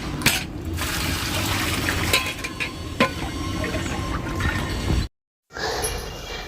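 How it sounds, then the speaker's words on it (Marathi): Water pours steadily through a sieve over soaked wheat in a home kitchen, a continuous gushing, splashing rush that cuts out abruptly near the end, then resumes briefly. "त्याच्यामुळे अशी चाळण लावून घेतली पाणी टाकायला"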